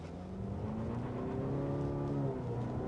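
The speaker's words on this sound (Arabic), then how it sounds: "بنجرب لكم تسارع السيارة بالأول." A Cadillac CT5 with a turbocharged four-cylinder engine accelerates, its steady engine drone rising smoothly in pitch throughout, loud and close, heard alone without talk.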